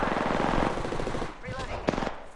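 Rapid automatic gunfire in an Apex Legends battle royale fight, dense and loud for the first second and a half, then thinning into scattered shots with faint voices and game effects in the mix.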